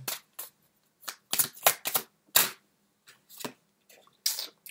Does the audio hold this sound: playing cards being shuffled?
yes